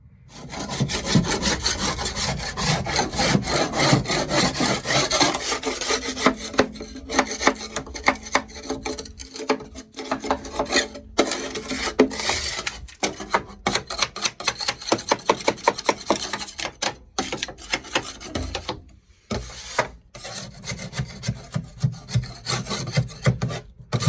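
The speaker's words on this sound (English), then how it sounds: "a lot of scraping where some of the adhesive is stuck" Stuck adhesive is scraped off the floor of a Kenworth truck in rapid, repeated rasping strokes, loud and close, continuing with short pauses for about twenty seconds without talk.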